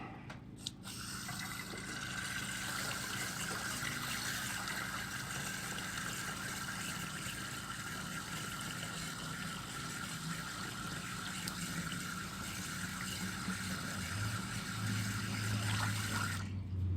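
Liquid pours steadily into a sprayer tank being topped off for lawn treatment, a continuous filling and splashing rush that stays even throughout and rises slightly in pitch near the end.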